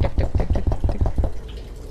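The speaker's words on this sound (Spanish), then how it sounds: "Oigo agua corriendo como si estuviera cerca de las tuberías" Running water trickles through pipes in the BERNBAND video game, a rhythmic series of close, splashing pulses that fades to a quieter steady flow.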